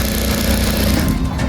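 An electric sewing machine runs a steady, fast stitching buzz along the back seam of a round-neck waistcoat, loud and close, continuous throughout with no talk.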